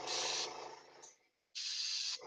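Airbrush spraying paint onto a Knight Models Emma Frost miniature, two close steady hissing bursts separated by a brief pause.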